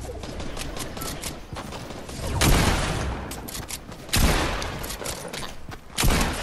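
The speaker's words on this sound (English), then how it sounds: "I hit him twice with a shotgun" Video game shotgun fire: three heavy, booming shots spaced a couple of seconds apart, loud and close, each followed by a rumbling tail over a constant background of game noise and scattered distant gunfire.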